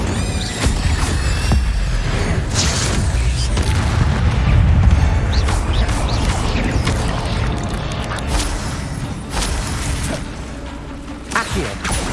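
Fire spells cast in Hogwarts Legacy during a spider fight, dense booming blasts and whooshing roars layered with creaks and rumble, loud and continuous with repeated bursts, and a voice shouting incantations over the din.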